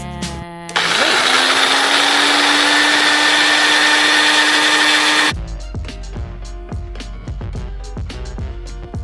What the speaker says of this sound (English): just pop it in the blender and wait